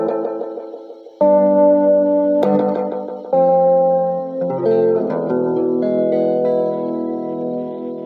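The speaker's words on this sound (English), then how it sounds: "so you can really hear the amount of echo we're getting" A Guyatone EM-606 tape echo delay, fed by a 1976 Roland VX-33 mixing amp, repeats loud sustained tones that restart in stacked, overlapping echoes, each new note trailing off into fading delay repeats.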